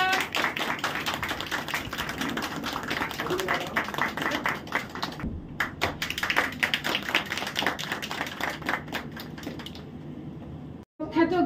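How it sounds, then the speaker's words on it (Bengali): Audience at a children and youth drama festival in a hall clapping hard and fast, a dense sustained burst of applause that briefly thins and then swells again, loud and close throughout. "সবার একটা জোরে হাততালি হয়ে যাক।"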